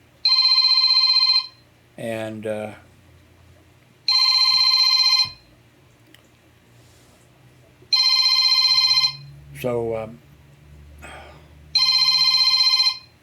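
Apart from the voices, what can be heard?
Moto G Stylus cell phone ringing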